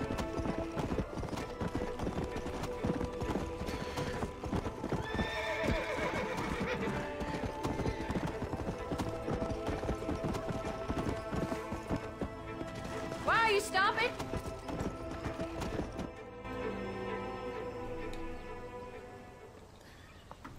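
A horse in the video game Red Dead Redemption galloping at high speed, rapid continuous hoofbeats with a loud whinny partway through, then slowing and fading near the end, with someone talking over it.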